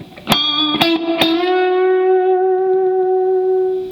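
Three quick picked attacks on a distorted electric guitar give way to one long sustained note with gentle vibrato, ringing loud and close with a slight fade over nearly four seconds.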